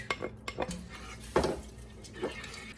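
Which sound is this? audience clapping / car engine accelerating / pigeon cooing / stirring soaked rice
stirring soaked rice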